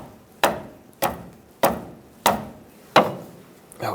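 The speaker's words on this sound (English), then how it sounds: "I'm going to take a rubber mallet" A rubber mallet taps the end of a wrench to free a stuck tie rod on a 2007-2014 Chevrolet Silverado 2500 HD. Five loud, close knocks land at an even pace, each ringing briefly before the next.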